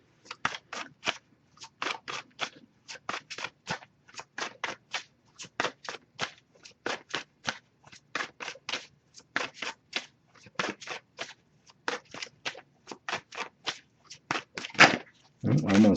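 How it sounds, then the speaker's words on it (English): Tarot and oracle cards are shuffled by hand in quick repeated riffling bursts, a steady rhythm of crisp close flicks and slaps carrying on alone, ending with a louder rustle. "if I shuffle for a while without any cards coming up, I'll just move on to the next Oracle deck"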